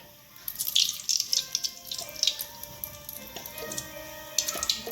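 Water running into a pan while cooking bombil (Bombay duck) fish, a light splashing trickle with faint drips and clinks against the metal, close by and steady over a few seconds.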